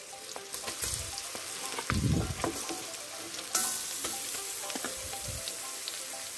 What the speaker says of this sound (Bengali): এই জলপাইটা একটু ভেজে নিব। দেখুন সব জলপাইগুলো দিয়ে দিচ্ছি।